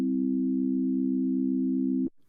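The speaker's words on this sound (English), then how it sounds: "So we've got a sine wave thing." A steady, pure low sine-wave tone from a UDO Super 6 desktop synthesizer holds unchanged for about two seconds, then cuts off abruptly.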